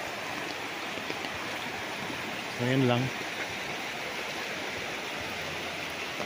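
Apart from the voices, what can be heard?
river flowing beside a farm lot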